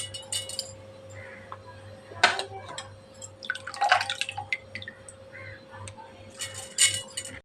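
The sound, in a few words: water dripping from soaked rice being drained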